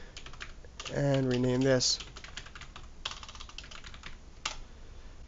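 Rapid clicks of a computer keyboard run through the stretch, close and crisp, while someone speaks briefly over the typing.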